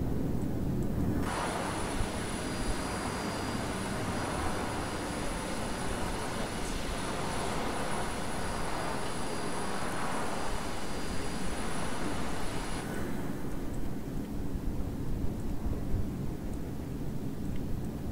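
A fighter jet's engine in a flight video game, a steady loud roaring drone with a thin high whine, holding for about twelve seconds then easing to a softer rumble, with no voices.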